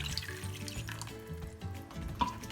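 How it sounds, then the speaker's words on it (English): Water poured from a blender jar into a cooking pot of tinda and potato curry with mint gravy, a steady close splashing pour running throughout, loud and without talk. "I'm going to add water."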